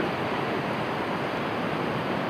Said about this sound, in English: you got the noise from the river that sounds like an ocean if you're not looking at it